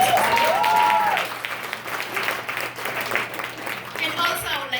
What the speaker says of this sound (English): Can you ladies give them a round of applause?